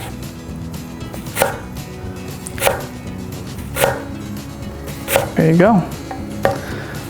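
A knife chops straight down through an onion on a cutting board in five or six evenly spaced, crisp thuds, with a brief whistle-like tone near the end and a voice speaking briefly.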